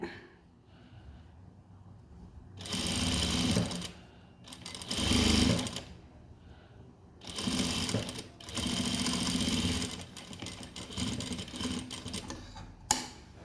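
A sewing machine stitches a blouse in bursts, four or five loud runs of rapid mechanical whirring separated by short quiet pauses, with a sharp click near the end.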